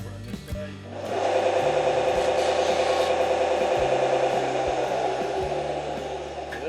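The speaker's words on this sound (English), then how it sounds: "I'll probably hit that with the sander again." A power sander running steadily on the edges of epoxy coasters, a continuous raspy whir that starts after a short pause and holds even and close for several seconds, alone.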